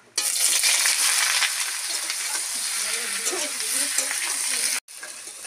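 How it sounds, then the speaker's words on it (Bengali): Pieces of green jackfruit and potato frying in hot oil, a loud, dense, continuous sizzle close up, with a faint voice underneath and a brief cut near the end. "তেল গরম হয়ে গেছে, এবার এঁচোড় আলুটা ভেজে নেব।"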